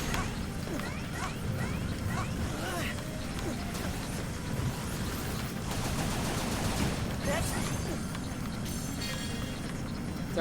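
Bursts of gunfire and crashing impacts ring out in a shooter video game, dense and continuous over a steady game soundtrack, loud and close throughout.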